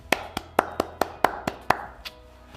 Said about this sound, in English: the contact tracers deserve a round of applause